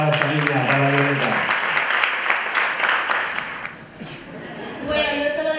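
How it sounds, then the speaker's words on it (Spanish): Audience at a women's football club gala applauds steadily with dense clapping, while a voice speaks over the start and again near the end. "Un fuerte aplauso para esta niña, para Violeta."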